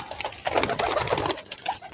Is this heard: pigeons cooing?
yes